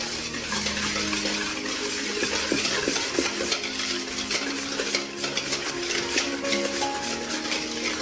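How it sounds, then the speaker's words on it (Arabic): Basbousa batter with coconut is stirred steadily in a bowl for a Moroccan semolina cake, the spoon scraping and churning continuously at close range with no talking. "وكنخلطو كلشي مزيان."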